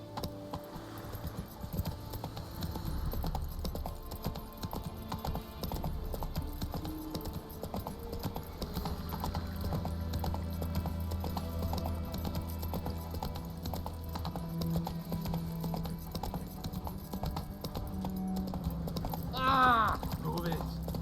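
Roach, Geralt's horse in The Witcher 3: Wild Hunt next-gen edition, trots with steady clip-clopping hooves that carry on under game music and ambience, and a brief whinny comes near the end.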